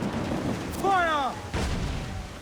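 Cannon fire from a sailing ship in Assassin's Creed Black Flag: a brief whistling burst followed by a deep booming report, loud and close, with a second heavy boom trailing after.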